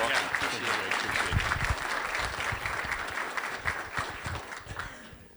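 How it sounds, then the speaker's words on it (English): An audience at a breakfast gathering breaks into steady, dense applause that fills the room for several seconds, then gradually thins out, with some voices mixed in. "let's give Eric a round of applause"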